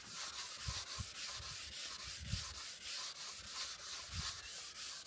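Steady rhythmic sanding of silver, a rough scratchy rubbing repeated in even back-and-forth strokes, close up with no voices.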